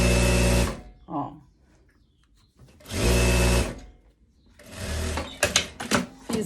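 A sewing machine topstitching elastic onto linen shorts at a longer stitch length, loud close whirring runs that start and stop in bursts, separated by quiet pauses, faint handling noises and a voice speaking.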